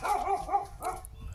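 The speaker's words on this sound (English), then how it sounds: "That's my dog going nuts." Bilbo, a pet dog, barks excitedly in a garden, several quick loud barks in a burst with a brief pause.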